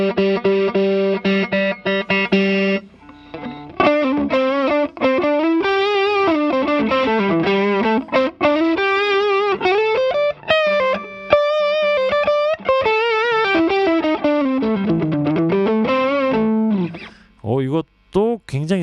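An electric guitar on its neck pickup, played through the heavier side of a DamonFX Dualgun distortion pedal, sounds a thick, saturated lead line with sustained notes, bends and vibrato, loud and alone for most of the passage before breaking into short choppy notes.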